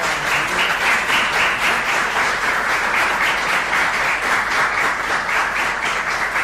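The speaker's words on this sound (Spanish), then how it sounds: "damos un aplauso" A room full of people applauds at the close of a cultural history talk: dense, continuous clapping at a steady, fairly loud level, with no speech over it.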